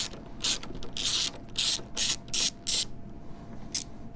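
A ratchet backing out a screw while an oil catch can is being installed on a car, giving about eight loud, crisp bursts of rapid clicking separated by short pauses.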